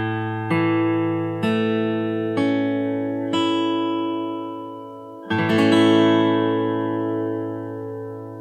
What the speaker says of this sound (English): Let's hear this chord. It's 5 notes, 5 strings.